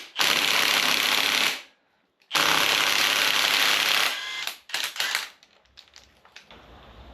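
A 22mm socket on a ratchet or impact tool removes the main bolt of the balancer on a Ford 4.0L engine, with two long, loud, steady whirring bursts separated by a brief gap, then scattered clanks and clicks.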